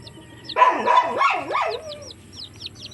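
Twelve-day-old Shamo chicks cluck in a short burst of a few loud, close calls, followed by fainter chirping peeps in the background.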